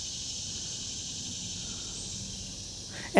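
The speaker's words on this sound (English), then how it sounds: "The cicadas, that's making that noise." A steady, continuous high-pitched insect drone holds evenly throughout, like cicadas buzzing in the background, with a faint rustle at the very end.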